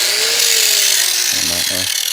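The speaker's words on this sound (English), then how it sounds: "Put this in a vise, grind that little weld off." An angle grinder grinds an old weld off metal clamped in a vise, a loud, steady, high-pitched whir running close and continuous, with a brief low drop in tone near the end.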